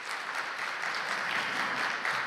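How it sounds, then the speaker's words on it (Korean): An audience at a semiconductor technology conference applauds to welcome a Samsung Electronics vice president to the stage, a soft, even patter of clapping heard from a distance throughout. "박수로 환영해 주시기 바랍니다."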